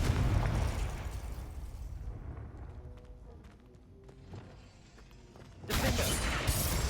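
A Confringo fire spell explodes in the Hogwarts Legacy video game. A loud, rumbling blast fills the opening seconds, fades to a quieter stretch, then a second sharp burst hits near the end.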